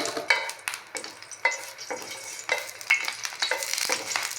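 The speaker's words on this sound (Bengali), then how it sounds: "একটু ভাজা ভাজা করবো সিমের বিচি" Dried red chillies and bean seeds fry in a hot pan, a steady crackling sizzle broken by repeated scraping stirs, close and moderately loud with no voices.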